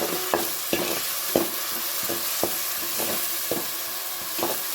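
Ground onion paste sizzles in a pan while being stirred for a Tamil-style chicken gravy, a steady frying hiss broken by about eight distinct scraping stirs at roughly half-second intervals, close and clear.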